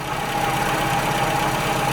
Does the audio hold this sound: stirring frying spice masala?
no